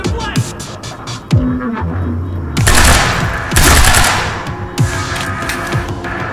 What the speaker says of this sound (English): That was an exploding fire extinguisher.